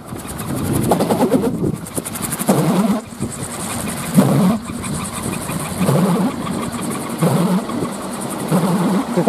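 A Balinese pindekan, a wooden windmill propeller, spins in light wind at Sanur, giving a loud pulsing hum and whir that rises and falls in repeated waves, with faint voices in the background.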